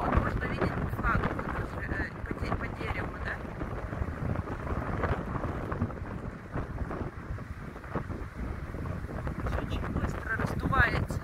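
Strong wind buffets the microphone in a constant roar with gusty rumbling, while a voice talks now and then underneath, outdoors in Minneapolis, Minnesota.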